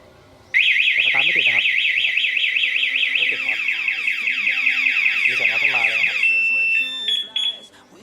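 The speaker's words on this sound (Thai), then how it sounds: "รถจะมีเสียงร้องขึ้นมาแล้วจะสตาร์ทไม่ติดนะครับ" A loud electronic motorcycle anti-theft alarm wails in a rapid warbling siren pattern for several seconds, then shifts to short chirps before stopping; a voice is faintly audible underneath.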